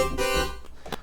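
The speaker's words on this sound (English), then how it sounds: "it's going to phase disperse the saw wavetable so that it is less in phase with itself." Saw wavetable in the Serum synth, phase-dispersed and drenched in reverb, a bright buzzy sustained tone that swells, then breaks into short smeared bursts, loud and alone.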